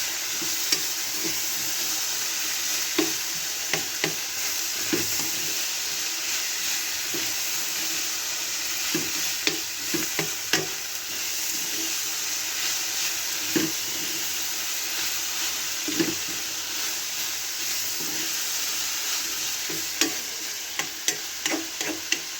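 Ivy gourd curry spiced with coriander powder sizzles steadily in a pan, with a constant frying hiss broken by irregular scraping clacks of a spoon stirring it, close and without talk.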